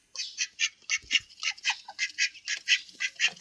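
Ducks sitting inside their shed give a run of loud, close quacks, about a dozen in quick, uneven succession, with only faint low bumps between calls.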